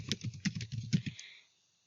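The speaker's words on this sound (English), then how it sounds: "here you need to type in the email address or the member ID" Someone types account details on a computer keyboard: a quick burst of close, crisp key taps lasting about a second and a half, then silence, with no speech.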